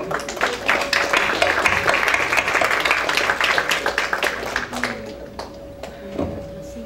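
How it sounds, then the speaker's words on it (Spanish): An audience at an academic panel on environmental policy applauds a speaker being introduced, steady clapping for about five seconds before thinning out to a few scattered claps over a faint steady hum. "Un fuerte aplauso para él."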